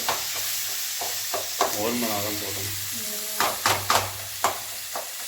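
Tomatoes sauté in a pan for a potato masala for puri, with a soft continuous sizzle and intermittent scraping stirs of a spoon against the pan, close by; a voice briefly murmurs.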